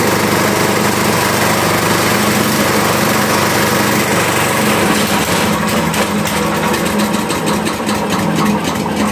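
A small Pertalite-fuelled engine, started with the choke on and the throttle near half, runs loudly and steadily close by. Around the midpoint the tone shifts into a rougher, rhythmic pulsing as it keeps going, with no talking.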